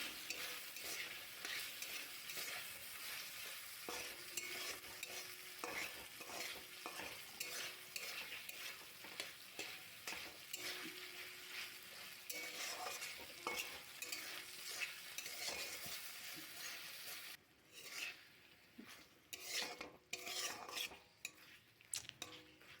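Meat pieces, mostly fat, fried with spices and salt in a pan, with steady close sizzling and frequent stirring scrapes and clinks of a utensil against the pan throughout, then a few louder sharp scrapes near the end.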